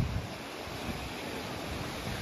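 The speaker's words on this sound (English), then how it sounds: "you can hear the waves crashing and you can hear the sea" Sea waves wash onto the shore at Budva, Montenegro, heard as a steady, dense roar of surf blended with wind buffeting the microphone, continuous and fairly loud with no voices.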